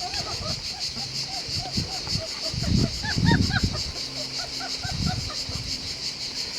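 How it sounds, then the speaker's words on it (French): Hens on a French farm give short, repeated clucks and calls, moderately close, scattered over a low, steady background of wind and insect buzz. "Ça glougloute, hein, il y a des poules"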